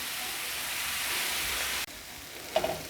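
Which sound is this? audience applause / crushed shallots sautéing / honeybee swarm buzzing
crushed shallots sautéing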